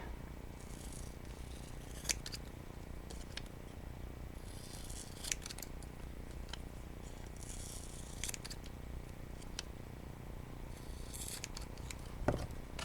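Scissors trim a paper number 8 for a mini book craft, with scattered close snips and rustling paper cuts spread across the stretch, fairly quiet over a low background hum.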